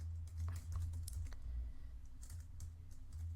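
Keys clatter in quick irregular bursts on a computer keyboard as text is entered into a web app builder, close and fairly quiet, with no voices.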